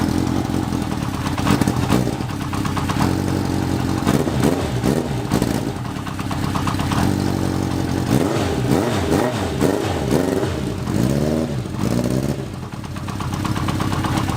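A Datsun 280Z engine with a carburetor, running cold and rough, loud and close, idling unevenly with repeated throttle blips and revs that rise and fall, no voices over it.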